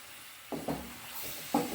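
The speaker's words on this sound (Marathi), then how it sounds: "आता आपण टाकायचे चिकन." Chicken pieces hit a hot pan of onion masala with a few sharp sizzling bursts and stirring scrapes, close and fairly quiet, with no talk.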